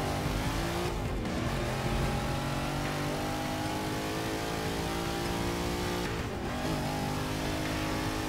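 A vintage 1960s race car engine in the racing game Forza 6 drones loudly and steadily throughout, with two brief gear-shift dips as the revs drop and climb again.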